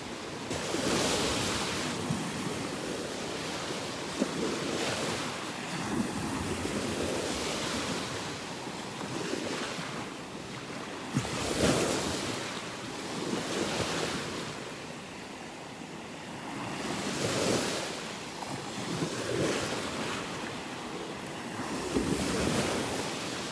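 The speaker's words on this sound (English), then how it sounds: "Getting tossed around in the waves." Surf rolls steadily onto a beach at North Naples, Florida, with waves breaking in repeated swells amid constant wind buffeting the microphone, and no voices.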